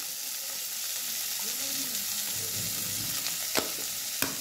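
Bread pasta with tomato sauce and sambar masala fries in a village-style pan, a continuous close sizzle with two sharp utensil knocks near the end as it is stirred.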